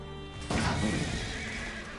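A horse in Elder Scrolls Online lets out a single whinny that rises suddenly over a steady bed of game ambience, moderately loud with a faint hoof clatter, and no one speaks.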